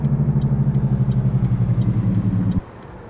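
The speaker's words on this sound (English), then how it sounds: "Hit that Jake brake." A truck's Jake brake in American Truck Simulator gives a loud, low, rapid pulsing engine rumble for about two and a half seconds, then cuts off to a quieter idle hum.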